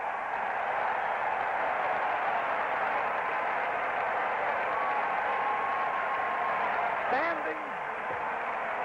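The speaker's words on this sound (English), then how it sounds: "Standing ovation for Bob Gibson." Baseball stadium crowd at a 1968 World Series game in St. Louis roars in a steady, distant standing ovation, a broad wash of cheering that holds throughout, with a faint voice near the end.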